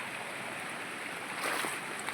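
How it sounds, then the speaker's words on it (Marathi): Water draining from a rain-flooded farm field, a steady rushing flow like a small stream, moderately faint with a slight swell midway. "मग त्यातलं पाणी ना जरा काढून देतो"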